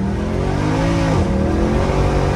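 A car engine revs continuously and loud, with rev matching on a downshift audible as the pitch dips and climbs again midway, close and alone without talk.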